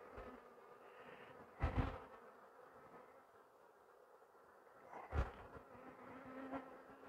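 Honeybees drone steadily at an open hive as frames are handled, a continuous buzzing hum with two brief louder bumps of frame movement, no talking.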